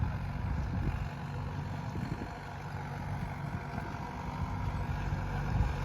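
A Sonalika 750 III tractor runs steadily in a field of hard, compact soil, its engine giving a continuous low rumble at close range throughout, with no talk.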